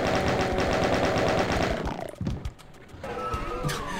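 Rapid gunfire from the first-person shooter Doom II, a dense run of repeated shots for about two seconds, then a thud and a brief gap before game sound effects and ambience return.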